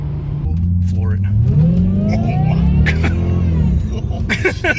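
A 400-horsepower car accelerates hard at full throttle, the engine note climbing loud and close in a long steady rise as the revs build, with people talking over it.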